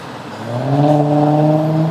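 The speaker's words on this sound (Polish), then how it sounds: "Troszeczkę jest hałasu od ciężarówek." Heavy trucks pass near roadside rubbish bins, a loud, steady engine drone that swells and holds for about two seconds, with no talking.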